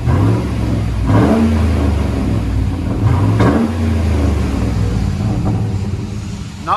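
A Chevy/GMC truck with a 5.3L V8 and a Carbon type R exhaust revs several times, each deep burst climbing and falling back to a steady loud idle, heard close with no talking.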